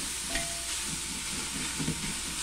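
Chopped onions softening in a pan get stirred, a soft, steady sizzle with faint scraping strokes, close by and fairly quiet, with no voices.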